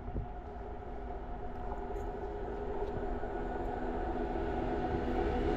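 A train crosses an old British-era bridge over the Godavari river, a steady, broad rumbling roar of wheels and carriages that holds and builds slightly throughout, heard from nearby.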